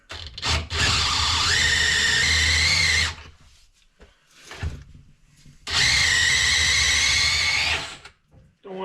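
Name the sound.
drill boring out a hole in a tractor part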